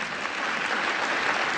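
Audience applause at the White House Correspondents' Dinner: a brief, dense burst of clapping from a large seated crowd, steady and fairly loud for under two seconds.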